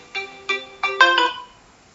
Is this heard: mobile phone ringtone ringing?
yes